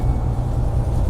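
Steady low rumble inside a truck while driving, a continuous engine and road drone with no talking.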